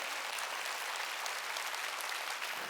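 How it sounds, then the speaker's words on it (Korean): A church congregation at a worship service applauding, a continuous, even roar of many hands clapping that sounds somewhat distant and moderately quiet, with no voices rising above it. "깨달았으면 박수 치라고요"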